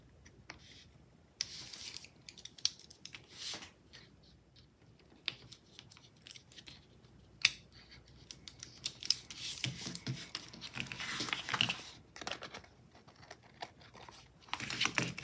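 Scissors cut paper into a jagged edge with a run of close, crisp snips, irregular and fairly quiet, with light paper rustling between the cuts.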